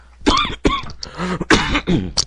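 A few harsh, close coughs and throat-clearing bursts in quick succession, loud and abrupt.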